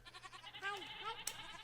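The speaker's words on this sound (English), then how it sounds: "So come on, goats." Goats bleat in Minecraft with the ZooCrafting mod, a couple of wavering animal calls at moderate distance over faint game ambience.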